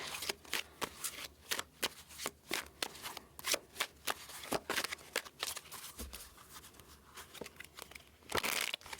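Oracle card deck being shuffled by hand, a steady run of crisp riffling bursts and soft card slaps repeating close up for several seconds, with no talking.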